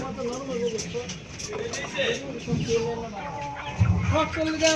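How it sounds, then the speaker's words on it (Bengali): Chickens cluck and squawk close by at a busy village market stall at Bottola Notun Bazar in Tongi, Gazipur, under the chatter of people talking. "এই যে মুরগি"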